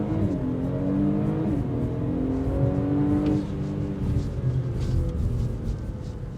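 A 2026 Audi SQ5 Sportback accelerating hard, its engine note rising steadily through the gears with a brief shift around the middle, heard from inside the cabin, loud and continuous with no talk.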